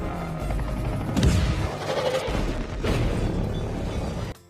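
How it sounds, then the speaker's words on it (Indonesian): A film firefight in Hidden Strike, with ground and air gunfire and explosions, forms a dense, continuous roar of blasts and shots that stays loud throughout before cutting off abruptly at the end. "Dan terjadilah saring tembak darat dan juga udara."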